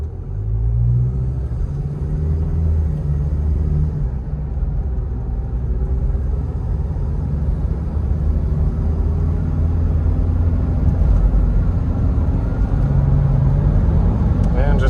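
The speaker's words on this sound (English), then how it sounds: "So we'll hop on the freeway here and do a quick ride. You get to see the acceleration." A 1996 Toyota Land Cruiser Prado KZJ95 accelerating onto a freeway, heard from inside as a steady, loud low engine drone and road rumble with rising tones throughout, unbroken for the whole stretch.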